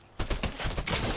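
Rapid bursts of gunfire crackle in a video game, a quick volley of loud shots fired close together after a moment of quiet.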